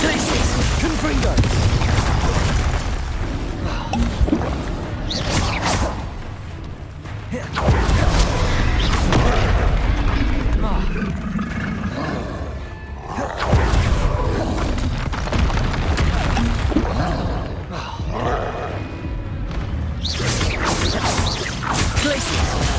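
Spells such as ice and blasting curses cast in Hogwarts Legacy, loud booms, whooshes and crashes bursting repeatedly over dense game noise for the whole stretch, with a voice shouting spell names throughout.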